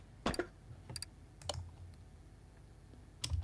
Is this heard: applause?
no